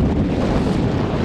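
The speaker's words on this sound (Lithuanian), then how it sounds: "Neblogai, vėjuota." Strong wind buffets the microphone at the top of Kaunas Ninth Fort, a loud continuous low roar with no pauses.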